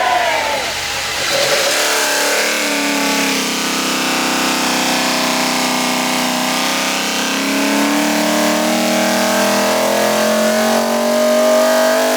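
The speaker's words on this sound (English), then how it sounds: "every Ford Performance Racing engine goes on this dyno and is run before it goes in the car to make sure that it runs all right" A Ford Performance Racing V8 Supercars race engine runs on a factory dyno, starting with a short rev and then holding a loud, steady, sustained roar for several seconds with slight rises in pitch near the end.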